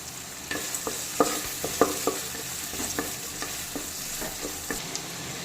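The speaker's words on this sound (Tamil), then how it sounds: "வெங்காயம் நல்லா கோல்டன் ப்ரௌன் கலர் வர அளவுக்கு நல்லா வதக்கி விட்டுக்கலாம்" Sliced onions sautéing with green chilies and curry leaves for a fish curry, a soft steady sizzle in a pan, broken by irregular clinks and scrapes of a spoon stirring.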